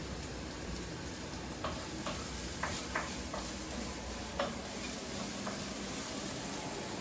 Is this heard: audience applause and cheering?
no